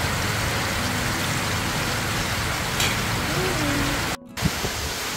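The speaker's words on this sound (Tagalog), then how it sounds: "kaya nag-start na naman po yung ulan" Steady rain falls during a typhoon, a constant close hiss of drops that fills the whole stretch. It cuts out for a split second near the end before carrying on.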